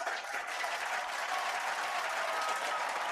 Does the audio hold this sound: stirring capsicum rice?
no